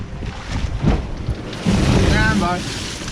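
Wind and crashing waves roll steadily around a sailboat on an open-sea Atlantic passage from Jamaica to Panama, a loud continuous rush with surges of water, with faint voices now and then.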